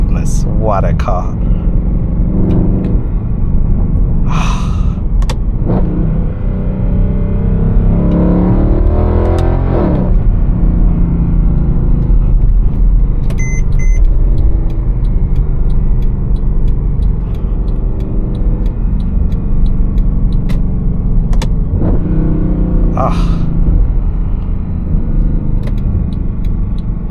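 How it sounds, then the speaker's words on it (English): Mercedes-Benz C63 AMG W204 with 460 hp and a 7-speed AMG Speedshift gearbox, its exhaust rumbling steadily from inside the cabin while driving, with someone talking over it throughout. "All you want to do is to listen to that exhaust note."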